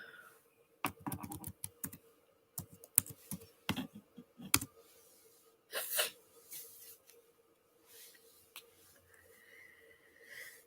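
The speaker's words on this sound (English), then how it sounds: "I'll type it in the chat" Bursts of keyboard typing on a computer come in uneven clusters of quick key clicks, fairly close and moderately loud, with quieter gaps and faint background noise between them.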